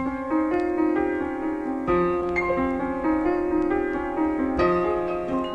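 A jazz sample pitched down seven semitones and looped in Serato Sample: steady, sustained chords repeating continuously, loud and full with no talking.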